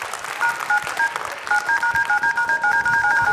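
Telephone keypad dialing in rapid dual-tone beeps, a quick irregular string of short tones played loud and close against a faint background hiss.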